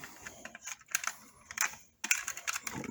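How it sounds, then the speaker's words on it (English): Several sharp plastic clicks, close and crisp, as a wire connector is handled and pushed into a Jeep backup camera, with short quiet gaps between the clicks. "Plug that first wire in. Make sure you hear that click."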